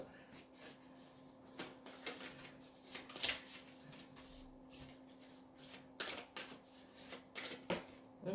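A deck of tarot cards is shuffled by hand in quick, papery riffles and bursts, close and fairly quiet, with a faint steady hum underneath.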